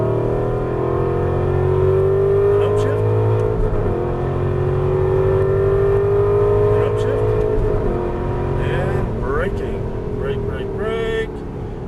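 Aston Martin V8 Vantage accelerating hard on a Las Vegas racing circuit, heard from inside the car: a loud, sustained V8 engine note climbing steadily in pitch, with a shift and deceleration near the end.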